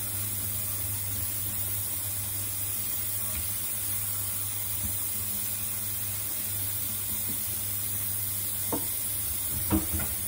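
Onions and carrots stirred in a tajine pot over a steady, soft sizzling hiss, with a few faint scrapes of the spoon near the end.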